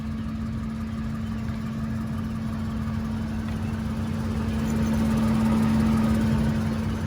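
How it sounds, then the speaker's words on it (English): A Ford F-150 truck engine idles steadily with an exhaust manifold leak, a constant close rumble with a faint ticking edge, rising slightly in loudness near the end, no voices. "It sounds like it does have a little manifold leak on this side"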